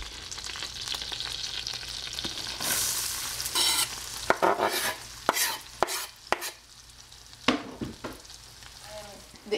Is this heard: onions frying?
yes